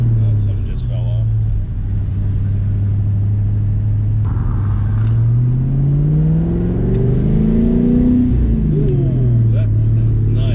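A New Edge Mustang fitted with an eBay DNA Motoring cat-back exhaust revs up loudly, its deep rumbling note climbing and falling through several rising pulls, close by and continuous.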